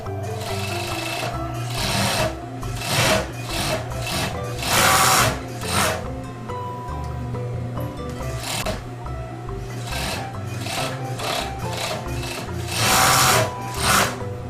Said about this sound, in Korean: 사면을 오바락 해줍니다.